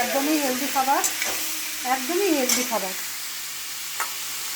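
Butter chicken with ginger, garlic and onion is stirred in a hot pan under a steady sizzle, with occasional spoon knocks while a voice hums or speaks over it.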